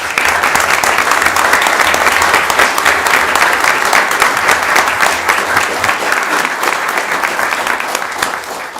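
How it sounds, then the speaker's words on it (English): An audience at a city council meeting breaks into loud, steady applause that carries on for several seconds and eases slightly toward the end. "Please, a round of applause for them"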